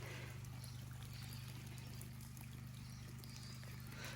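Rain-fed creek water flows continuously at a distance, a faint steady wash under a constant low hum, with no voices.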